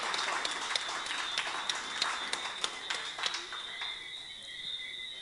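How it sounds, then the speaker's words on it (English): Applause from an audience at a security guard service award ceremony, a dense patter of clapping that carries for a few seconds, then fades out under a high steady ringing tone. "let's congratulate with a big round of applause"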